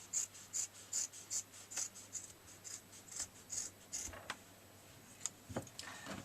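Scissors cutting straight across a pair of jeans, a run of rhythmic crunchy snips through thick denim, close and fairly quiet, slowing to a few sparse cuts at the end.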